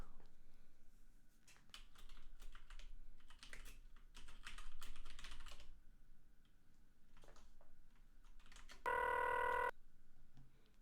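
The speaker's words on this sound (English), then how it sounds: "so it plays a ringing sound and then there's a delay." A single short electronic telephone ring from the video game McKenzie & Co cuts in near the end, following a long stretch of steady computer keyboard typing.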